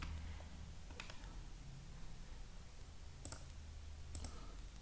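Computer mouse clicks while drafting dimensions in LibreCAD, a few faint sharp clicks spaced over several seconds against a quiet room hum.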